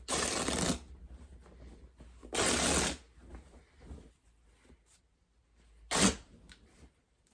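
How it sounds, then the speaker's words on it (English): Cotton fabric for a shirred summer dress is torn by hand in three sharp, raspy bursts. The first two last under a second each, and the third is a quick final rip, close up and alone. "Reminder that you can rip cotton, you don't need to cut it the whole way."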